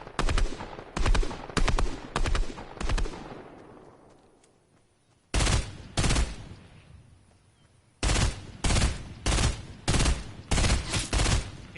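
Several bursts of gunfire in the Fortnite video game, from snipers near a beach, crack out in rapid clusters, with a fading tail and pauses between volleys.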